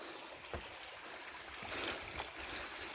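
Flowing river water heard outdoors as a steady broadband rush and trickle, with a few brief knocks and a slight swell in the middle, no talking.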